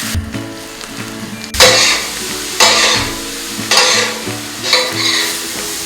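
Onions cooked with ginger-garlic water are stirred in a pan over a steady sizzle, with a spoon scraping in four or five loud, regular strokes roughly a second apart and no talking.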